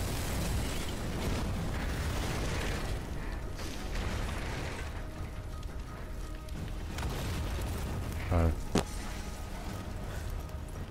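Tanks blow up in Sniper Elite 4 amid a steady, dense rumble of battle noise, with a sharp blast bursting out near the end.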